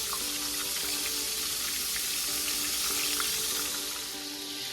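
Chicken fried steak frying in a pan makes a steady, dense sizzle and crackle of hot oil that holds level throughout, with no voices.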